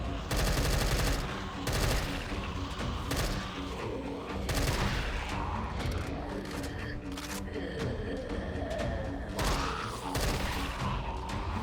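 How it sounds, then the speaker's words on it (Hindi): Rapid gunfire in a Minecraft zombie apocalypse game mod as a horde of zombies is shot down: dense, continuous bursts of loud synthetic shots with brief gaps, heavy and close throughout. "तो मैंने गोलियों की बरसात कर दी।"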